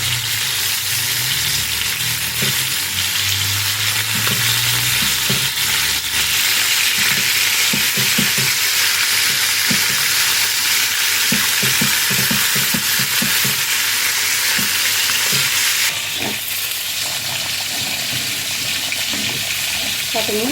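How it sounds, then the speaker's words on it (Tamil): Catfish frying in oil in a pan, giving a loud, continuous, close sizzle with bubbling crackle that holds steady throughout. "இந்த பக்கம் வறுவல் ரெடி பண்ணிட்டேன் மீன் வறுவல்"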